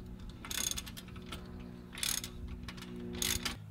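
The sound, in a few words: 19 mm sockets tightening bolts on a steering stabilizer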